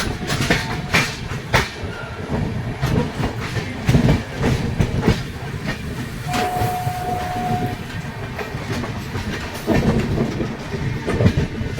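The Digha–Visakhapatnam Express rolls along the tracks, with a steady rumble and rhythmic clickety-clack of wheels over rail joints from inside a coach, heard alone and fairly loud throughout.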